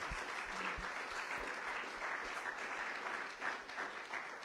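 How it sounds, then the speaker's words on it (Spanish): A church congregation at a Spanish-language service applauds continuously, a soft, dense, even patter of many hands heard from a distance. "Denle un aplauso al Señor."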